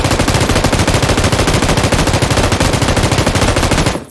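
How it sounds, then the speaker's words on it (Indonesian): An M249 light machine gun with a weapon skin, loaded with 5.56 ammunition, fires in PUBG on PC as one dense, unbroken automatic burst of rapid shots lasting about four seconds, loud and close, then cuts off abruptly. "Kita akan tembak selama 4 detik berapa peluru yang dikeluarkan."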